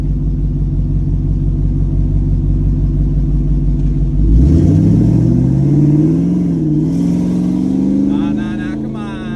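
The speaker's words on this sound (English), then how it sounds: "We're gonna do another little third gear pull." A twin-turbo shop truck engine idles with a deep rumble, then is floored in a third-gear pull. The loud engine note climbs steadily in pitch and stays strong to the end, heard from inside the cab.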